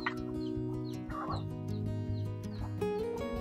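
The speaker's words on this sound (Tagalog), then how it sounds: "ito po yung mga manok" Chickens in a coop sheltering from afternoon rain, clucking softly and intermittently, close by and faint, over a steady hum of rain and background noise, with no one talking.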